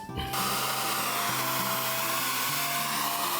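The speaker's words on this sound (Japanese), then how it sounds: "ちょっとドライヤーでしっかりと乾かして、からスタートしたいと思います" Handheld hair dryer blowing on watercolor paint to dry it, switching on abruptly and then running as a steady, loud, close whooshing roar with a constant motor whine, no talking.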